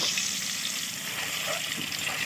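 Eggs fry in hot oil in a pan, giving a steady, close bubbling sizzle that holds evenly throughout without any voices.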